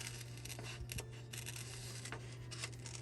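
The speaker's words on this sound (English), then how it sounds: "I'm just going to go ahead and I'm cutting the flower out." Scissors cutting a flower out of a torn book page, quiet close snips and papery crinkling over a steady low hum.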